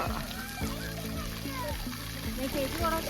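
Water splashes and sloshes steadily nearby while children's voices chatter and call out over the running water at a children's water play area in Norway in summer.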